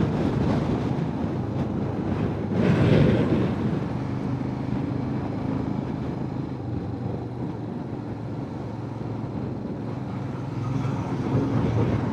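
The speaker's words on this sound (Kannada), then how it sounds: "ಸಖತ್ ಗಾಳಿ ಹೊಡಿತಿದೆ." Steady, loud wind rushing and buffeting a microphone throughout on a cliff-cut mountain road in Spiti, Himalayas, a broad roar with a stronger gust early on.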